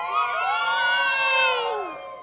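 A crowd of supporters cheers and shouts loudly for a competitor named Mirella at a music show, a sustained high-pitched roar of voices that swells and then fades.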